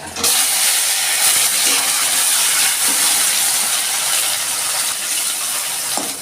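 Chopped onion hits hot oil already seasoned with dried red chilies, a torn bay leaf and white cumin, setting off a loud, steady hiss that holds for several seconds with no talk.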